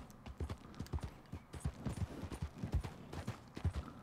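Horse hooves clip-clop in a steady, rhythmic gait in Red Dead Redemption 2, each fairly close and distinct, with no other sound over them.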